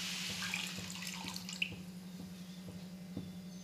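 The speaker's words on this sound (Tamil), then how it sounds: "1/4 கப் அளவுக்கு அதே கப்பில் தண்ணி ஊற்றிக்கிறோம்." Water poured from a cup into a pan of sugar for Mysore pak, a thin steady trickle with a few light splashes and drips over a low constant hum, close and fairly quiet.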